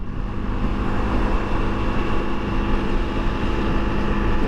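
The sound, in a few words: Honda CRF 300 L motorcycle engine at highway speed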